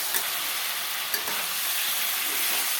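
Spice paste sautéing in oil in a pan gives a steady, close, bright sizzle, with a couple of faint clicks as it is stirred.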